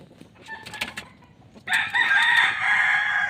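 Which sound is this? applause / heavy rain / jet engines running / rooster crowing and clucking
rooster crowing and clucking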